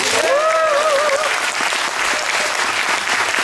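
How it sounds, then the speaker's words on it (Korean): Loud, sustained applause from a large crowd at a Korean political party rally, with a brief high whistle or cheer rising above the clapping near the start. "박수 한번 칠까요?"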